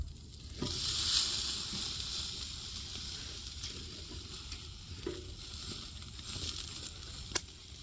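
A steak fries in a hot pan just after being flipped, giving a soft, steady sizzle with some faint crackles and a small clatter near the end.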